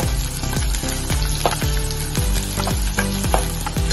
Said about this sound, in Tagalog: So, pinisa ko na yung luya